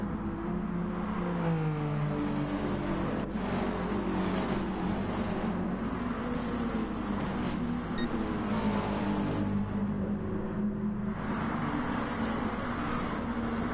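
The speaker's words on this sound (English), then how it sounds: "That's a great sound of these cars all going by." BTCC touring race cars in the Gran Turismo Sport video game streaming past in a pack, a dense continuous roar of engines with rising and falling pitch, steady and loud throughout.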